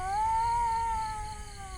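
A cat lets out one drawn-out, wavering wail at night, close and steady in pitch before trailing off, with low background rumble and no talking.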